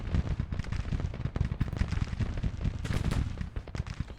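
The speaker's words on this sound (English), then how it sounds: "I'm going to get the battery turned and firing if possible." An artillery battery fires in a Civil War battle game, with dense overlapping booms and musket-like cracks rolling continuously in a loud, chaotic barrage.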